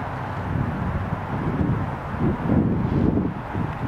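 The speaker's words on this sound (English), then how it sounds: "the wind is coming up too, I think" Wind gusting over a sailboat on open water, a loud, rumbling buffet of low noise swelling and easing in gusts close to the microphone.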